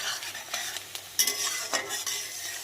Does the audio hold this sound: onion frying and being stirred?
yes